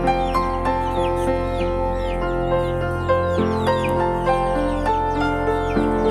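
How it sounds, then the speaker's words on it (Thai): Chickens cluck repeatedly in a close, busy flock, with short rising calls scattered throughout over a steady low hum. "ไก่บ้านเรานะครับ"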